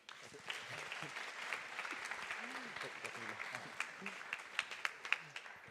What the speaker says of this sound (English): another applause for Roberto